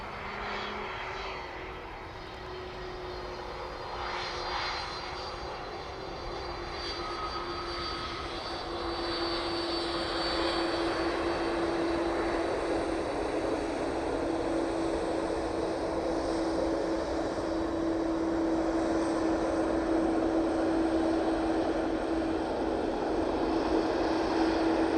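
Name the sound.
Boeing 767 from Kennedy touching down on runway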